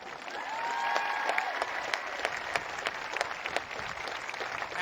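An audience at a conservative political speech applauds a Green Beret veteran, with dense clapping that swells and then holds steady throughout.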